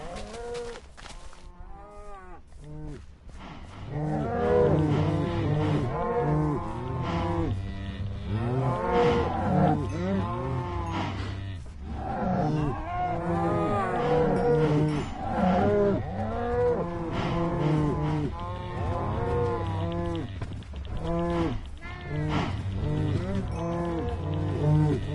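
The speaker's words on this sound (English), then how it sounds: "That's a lot of cattle." A herd of cattle in Minecraft Bedrock Edition moos over and over, many overlapping low, drawn-out lows that form a loud, continuous chorus.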